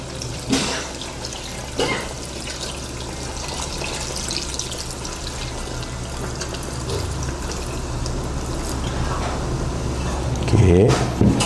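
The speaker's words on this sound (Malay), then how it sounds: "Kemudian kita masukkan air." Water poured into a cooking pot while making a spicy coconut-milk chicken dish, a gurgling, splashing stream that runs under intermittent talk and swells toward the end.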